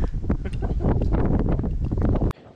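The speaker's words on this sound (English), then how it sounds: "It's very, very, very windy." Strong wind at a park, heavy buffeting gusts rumbling loudly against the microphone for about two seconds before cutting off abruptly into near quiet.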